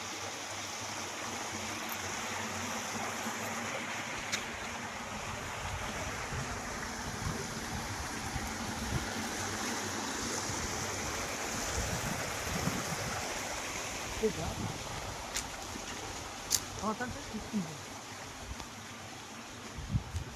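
A steady stream of water rushes and gurgles continuously, broad and even, with a few faint clicks and splashes near the end.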